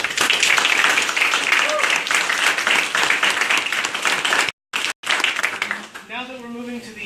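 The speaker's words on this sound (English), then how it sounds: "Let's have a round of applause for our brave candidates." An audience at a ward candidate forum applauds the candidates, a dense, loud wash of clapping that breaks off briefly, then a voice begins speaking as the applause fades.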